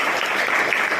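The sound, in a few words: classroom applause, children clapping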